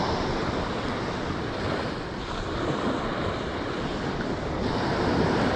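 Ocean surf washing steadily onto a beach while fishing from the shore, a continuous broad roar of breaking waves with some wind buffeting the microphone, no voices.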